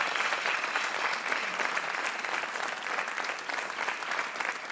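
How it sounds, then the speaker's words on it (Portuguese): Studio audience on a television quiz show applauding a contestant named António, a loud, dense and continuous burst of clapping that holds steady throughout, with no talk over it. "Um aplauso para o nosso António,"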